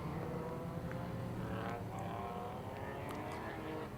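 Classic racing cars, a Jaguar E-Type among them, roar around a track at a historic race meeting. A steady, fairly distant engine drone holds without a break, with no talk over it.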